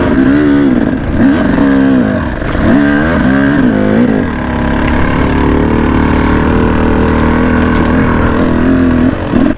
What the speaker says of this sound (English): this 2-stroke just pulled right on up